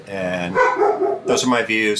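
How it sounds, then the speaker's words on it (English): A dog barks indoors while a person talks over it, the barks mixed into and partly masked by the speech. "Sorry about the dog."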